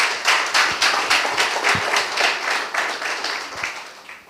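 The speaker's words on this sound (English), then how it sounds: "Let's give him a round of applause, man." A live audience gives a round of applause at a chat-show event, with dense, steady clapping that stays fairly loud throughout, a few sharper individual claps standing out near the front.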